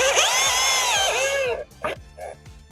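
A power drill drives 3-inch wood screws into wood, giving a loud, rising and falling whine for about a second and a half before dropping away to quieter clicks and scattered knocks.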